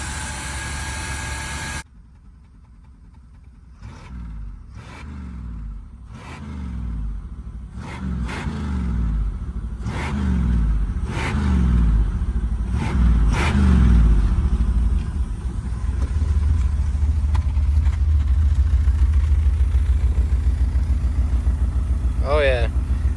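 A 1973 Chevy Nova's engine, revived after sitting for decades, cranks and catches with repeated bursts, then settles into a loud, steady, rumbling idle close by, with speech in places.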